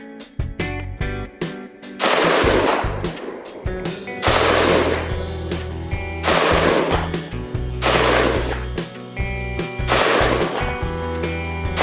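A DPMS Oracle A3 AR-15 rifle fires at an outdoor range. The shots are loud and widely spaced, each one cracking and then echoing off into a long tail, and no one speaks.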